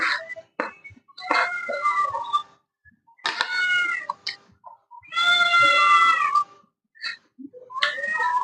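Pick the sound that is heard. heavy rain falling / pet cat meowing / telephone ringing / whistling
pet cat meowing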